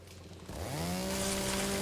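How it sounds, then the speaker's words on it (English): A chainsaw in the survival video game Way of Winter starts up and revs into a steady buzzing drone. It sounds moderately close and plays alone for under two seconds. "So I got my chainsaw."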